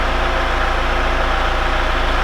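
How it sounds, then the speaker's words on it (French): An Audi convertible engine idles steadily while warming up, a loud, close, even rumble with a regular low throb and no voices. "le moteur ne claque plus du tout"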